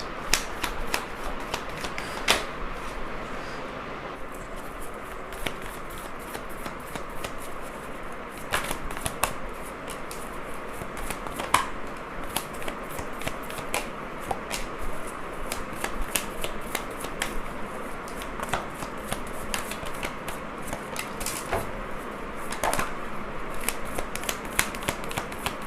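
Tarot cards are shuffled steadily and continuously for the whole stretch, a close, crisp riffling and slapping of the deck with no talking, at a candle-wax tarot reading.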